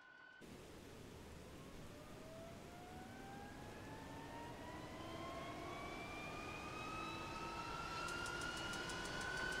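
M-346 jet engine spinning up during a start in a flight simulator game, a steady broadband roar with a rising whine that climbs in pitch throughout, and a rapid ticking of igniters joining near the end.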